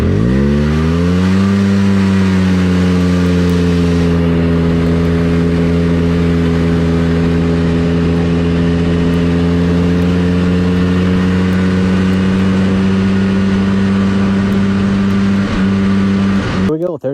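An old Polaris Big Boss 6x6 ATV with a 250 two-stroke engine revs up from a start and holds a steady, loud, buzzing drone at speed, close and continuous for the whole run with no break.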